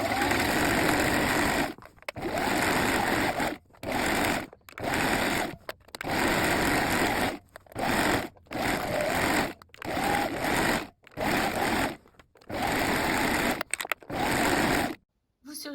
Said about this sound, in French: Donc maintenant vous assemblez les côtés à 1 cm du bord puis vous surjetez.